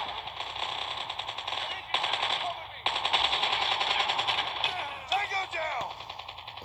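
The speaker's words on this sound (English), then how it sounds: "you kind of shoot automatically" Rapid automatic gunfire from the mobile shooter game Call of Duty, sustained bursts of loud, crackling shots with brief pauses and a reload break partway through, heard up close with no talking.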